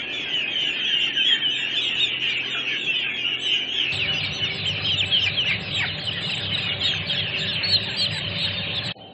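Turkey hen chicks in a rearing barn, a continuous chorus of high peeping and chirping from many young birds, with a low hum of barn ventilation joining partway through.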